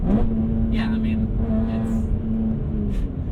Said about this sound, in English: Here's the car. Listen to it.